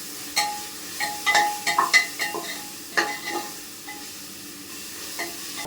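Onions frying in a pan for a bone and ash gourd curry, with irregular scraping stir strokes over a soft sizzle, close and fairly quiet, with no voices.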